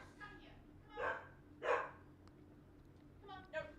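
A reactive dog gives several sharp barks spaced irregularly, the loudest mid-clip, with faint background room noise.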